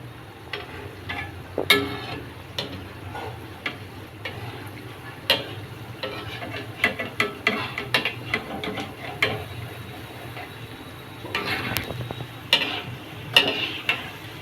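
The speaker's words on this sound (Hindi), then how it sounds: "गोली उतना ही डालेंगे ताकि आराम से तेल में डूब जाए और अच्छे तरह से तला जाए" Gulab jamun dough balls frying in oil over a medium flame, a quiet bubbling hiss punctuated by frequent sharp ticks and clinks from a spoon or pan, close and uneven.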